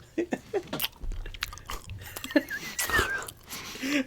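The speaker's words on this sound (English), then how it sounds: "Just audible chewing noise." Several people chew and bite into food close to the microphone, making crunchy, wet mouth sounds in short irregular bursts, with brief quiet voices in between.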